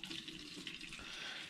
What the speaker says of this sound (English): So as I'm siphoning into this plastic water bottle, I'm going to add finings A.